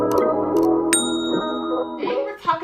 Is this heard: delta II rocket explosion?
no